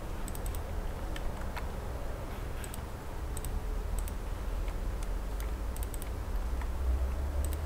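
Sharp computer mouse clicks while working in 3D modeling software, including a quick triple click, arriving as a scattered series of light, close ticks over a steady background hum, with no talking.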